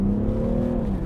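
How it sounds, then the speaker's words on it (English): BMW G21 M340d Touring diesel accelerating hard in first gear on a country road, a brief loud steady engine drone heard from inside the car. "So we'll put the car into first and we'll get on with it."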